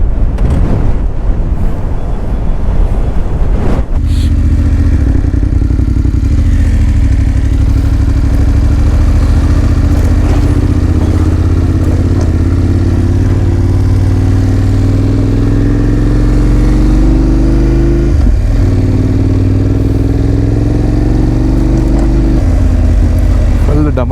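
A bus rumbles past a stopped motorbike on a mountain road near Narkanda, its loud, low engine drone building and holding steady with a rattling vibration for about twenty seconds, with voices heard briefly.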